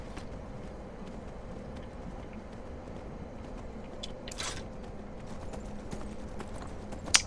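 Horse hooves clip-clop faintly in Skyrim, a soft, regular trot over a low background hum, with a sharper click right at the end.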